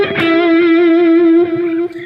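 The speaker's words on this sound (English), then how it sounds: "and the guitar solo starts off like this" An electric guitar solo from a song, played through effects with distortion: one long, sustained, vibrato-laden lead note that rings loud and alone, then eases slightly near the end.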